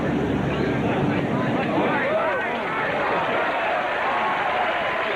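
A golf gallery on the 18th hole of a par 4 cheers and applauds Chichi Rodriguez's drive in a dense, continuous roar of clapping and voices that stays loud throughout.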